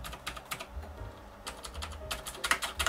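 Keys are pressed on the keyboard of an old 386 portable computer, a close, irregular run of sharp clicks and clacks with no speech.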